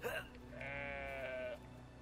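A single drawn-out sheep bleat from Brothers: A Tale of Two Sons, fairly faint and close, wavering for about a second and a half after a brief clatter.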